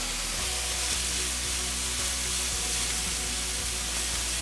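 Mushrooms sautéing in a pan over medium heat with a touch of salt give a steady, close sizzle that holds level and continuous throughout, with no talking.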